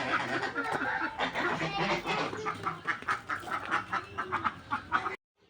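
Domestic geese kept on a farm call and honk in a noisy, overlapping flock, loud and close, with repeated nasal cries.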